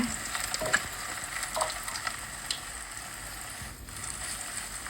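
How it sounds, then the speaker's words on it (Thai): Beaten egg for a Thai omelette fries in a generous amount of hot oil in a pan, giving a steady, soft, close sizzle with light crackles and faint stirring scrapes throughout. "รอน้ำมันให้ร้อน แล้วเทไข่ลงไปเลย"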